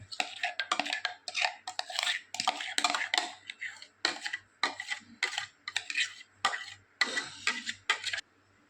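A whisk beats blended banana and sugar in a bowl for banana cake, giving close, quick rhythmic clinking and scraping strokes against the bowl over a low steady hum.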